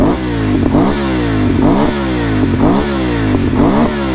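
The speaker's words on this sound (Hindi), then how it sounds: "पहले हम BMW को रेव करेंगे।" A BMW superbike engine revved on the spot in short, sharp bursts, roughly four throttle blips in a steady rhythm, each rising then dropping back to a rough idle, loud and close with no talk.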